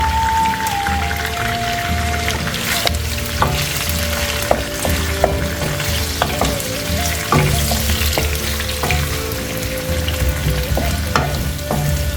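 Two medium onions frying with chicken in a karahi for an Irani chicken karahi, a loud, continuous sizzle and crackle broken by repeated clicks and scrapes of a utensil stirring the pan.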